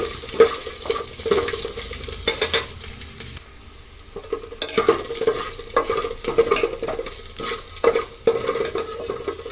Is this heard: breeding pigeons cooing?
no